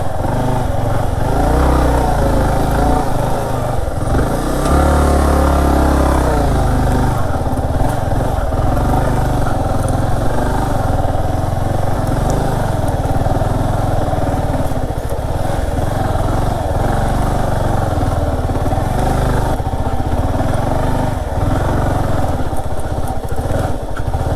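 A motorcycle engine drones steadily and loudly while riding a very rough off-road track up to Mandalpatti Peak in Coorg, with rumbling bumps and shifting revs throughout.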